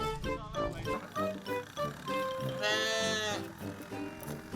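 A sheep bleats amid a busy mix of voices and background sound, with one clear wavering bleat standing out near the middle, fairly close and loud.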